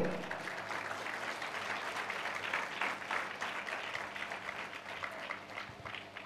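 A congregation at a fasting prayer day claps steadily and fairly loudly, many hands forming a continuous dense patter that carries from start to finish.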